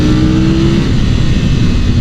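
A 2000 Aprilia RSV Mille motorcycle engine revs loud and close, a steady dense roar held through the whole moment with no voices over it.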